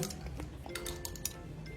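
A utensil clinks quietly against a pot while cream is stirred with tomato concentrate, a few light metallic taps spread across a short, calm stretch.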